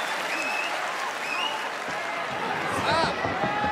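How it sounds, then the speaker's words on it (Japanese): An arena crowd at a professional boxing match swells into steady applause, heard throughout the clip under an excited commentator's voice. "大きな拍手が湧き上がります。"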